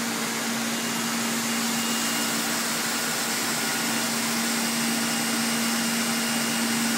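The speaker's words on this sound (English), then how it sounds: "Our tray now goes through the blower dryer, which will use the air blades to wipe off any excess water on the tray." An Insinger tray washer's blower dryer pushes trays past air blades, making a steady, loud broadband whoosh of rushing air over a constant mechanical hum, unbroken and with no voices.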